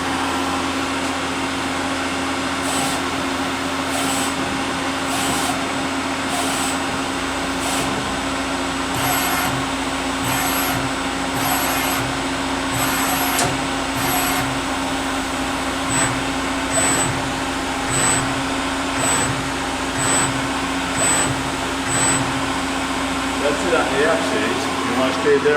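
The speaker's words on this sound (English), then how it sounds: "I'll do X, Y, Z. I'll just wrap it back and forth a few times." Axes of a Fanuc Robodrill Alpha-T21iD vertical machining center traverse back and forth, giving a steady mechanical whine and hum with a string of repeated pulses and surges as the moves reverse.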